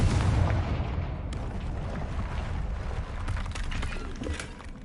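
A Confringo explosion spell bursts in Hogwarts Legacy, a loud broadband blast that rolls into a sustained rumbling roar before tapering off, with no voices over it.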